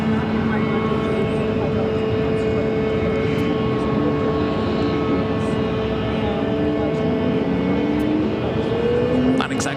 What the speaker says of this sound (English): Not exactly sure where this A321neo will be heading to.